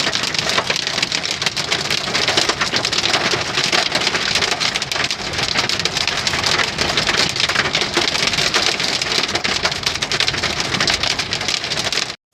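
Hailstorm with powerful winds in Yunnan, China, heard as a dense, steady roar of ice and rain pounding on surfaces, loud and unbroken for the whole stretch, with no voices.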